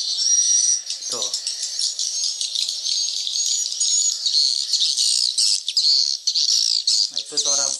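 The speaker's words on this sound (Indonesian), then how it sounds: "Nah, itu suara piyik heksagonal" A played recording of a swiftlet chick call sounds as a hexagonal lure, giving dense continuous high-pitched chirping and twittering that carries throughout. Brief voice sounds break in near the start and the end.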